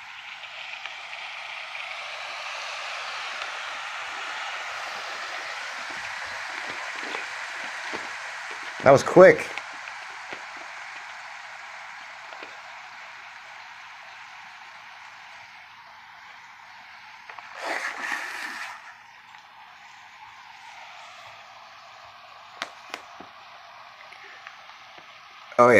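An Omeals self-heating backpacking meal heater reacts with a steady, soft fizzing hiss that runs for about fifteen seconds before fading. Brief rustles and a short spoken remark break in.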